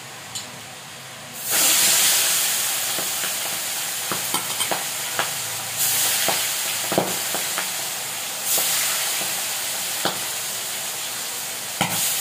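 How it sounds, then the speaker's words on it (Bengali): Fish sliding into hot oil in a wok sets off a sudden loud, steady sizzle with hiss and bursts of crackle. Occasional scrapes and clicks of turning come through close by, and no one speaks. "এখানে তেলটা গরম হয়ে গেছে, মাছগুলো ভেজে দেবো।"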